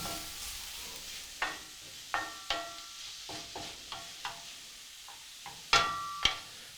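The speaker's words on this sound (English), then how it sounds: "Stir in the carrots and let them cook for a few minutes until they're nice and soft." Carrots for a carrot and white bean veggie burger cooking in a pan, a soft sizzle punctuated by a series of sharp scrapes and clinks of a utensil against the pan as they are stirred.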